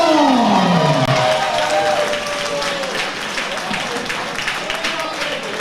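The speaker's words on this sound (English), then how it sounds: "please keep your applause going for his opponent" Crowd applause for a boxer at a Beath Boxing Club home show, sustained clapping from a packed hall that eases off gradually, with an announcer's voice over the PA.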